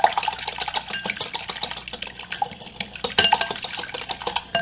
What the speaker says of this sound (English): I want to whisk those eggs really quickly